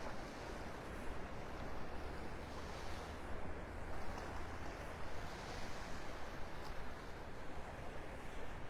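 Surf washing steadily onto the beach at Delnor-Wiggins near Wiggins Pass in North Naples, Florida, a continuous rushing roar of waves with gusty wind buffeting the microphone and no voices.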